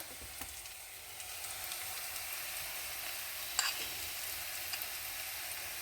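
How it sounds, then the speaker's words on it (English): Chopped onions fry and caramelize in a pan for a vegetarian okra curry, giving a steady, even sizzle close by with a single sharp clink from a utensil partway through and no talking. "The onions are browning and caramelizing"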